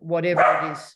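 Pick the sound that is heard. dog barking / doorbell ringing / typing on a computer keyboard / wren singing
dog barking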